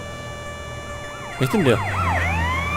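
A wailing ambulance siren from the video game GTA San Andreas, starting abruptly, loud and close, sweeping up and down in pitch over a steady hum, with a brief spoken remark over it.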